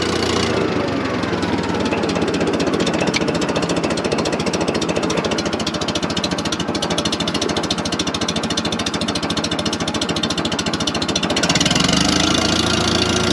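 A Farmall 706 Hi-Clear tractor engine idles as it warms up, a loud, steady, close knocking rumble with fast even pulses that runs through the whole span, shifting slightly in tone near the end.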